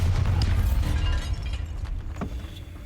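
A Bombarda blasting spell detonates in Hogwarts Legacy, a deep booming explosion with a strong low-end thump at the start that rolls off into a fading rumble, plus a faint later crack.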